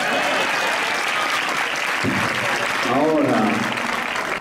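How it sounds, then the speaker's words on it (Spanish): Circus audience applause fills the big top in a steady, full wash of clapping, with a voice briefly speaking over it midway. "Un aplauso."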